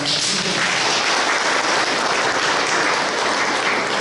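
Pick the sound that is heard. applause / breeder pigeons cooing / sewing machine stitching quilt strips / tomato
applause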